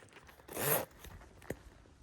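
A quick zipper pull on an infrared sauna blanket rasps once, close and brief, followed by a faint click in an otherwise quiet space.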